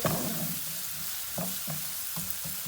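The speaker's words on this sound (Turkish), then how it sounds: "Havuçlarımız kavruldu, soğanlarımız kavruldu." Carrots and onions sautéing in a pan for Turkish rice pilaf, a steady close sizzle with several short scraping stirs at a regular pace.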